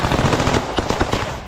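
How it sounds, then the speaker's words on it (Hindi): Rapid, loud automatic gunfire in bursts during Ukrainian counterattack combat against Russian trench positions, with fighters firing while sitting or lying on the ground; sharp repeated cracks fill the whole stretch. "कहीं बैठकर तो कहीं जमीन पर लेटकर फायरिंग की जा रही है"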